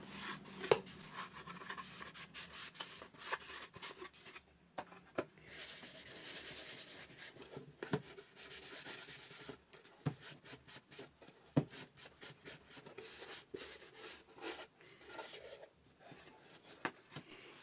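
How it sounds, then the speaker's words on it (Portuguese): A cloth wipes sanding dust off a piece of MDF in irregular, soft rubbing strokes with occasional light taps, close and quiet, with no voices. "Com o auxílio de um paninho, eu vou tirar todo o pó que eu levanto da minha peça"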